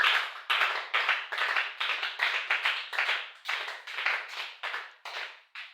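Congregation at a church service claps in steady rhythmic bursts, many hands striking together in a regular beat, lively and continuous throughout.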